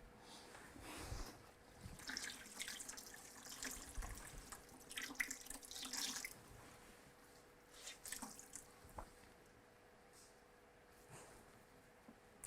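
Warm water runs from a tap, quiet and steady, with soft splashes and drips rising and falling over about twelve seconds. No one speaks.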